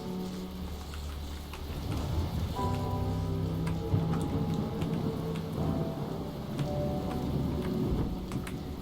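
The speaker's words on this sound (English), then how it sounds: "There's a storm coming." A thunderstorm in the Talos Principle video game, with steady heavy rain and low rumbling thunder under a sustained droning tone, loud and continuous throughout.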